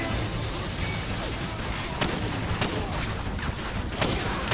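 Gunfire from Call of Duty 4: Modern Warfare, steady dense battle noise with a few sharper shot cracks standing out over the continuous roar.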